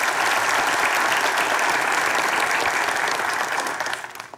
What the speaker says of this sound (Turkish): İlk skeciyi de alkışlıyoruz kendisini.